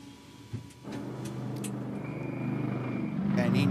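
A G-Technic GT race car rolls into the pit lane at Sandown, its engine a steady mid-pitched drone that grows louder toward the end, while a commentator talks over it.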